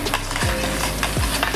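Balsamic vinegar poured into a hot pan to deglaze it, giving a loud, continuous sizzle and hiss, with spoon or spatula scrapes sweeping across the pan at a regular pace, close up with no talking.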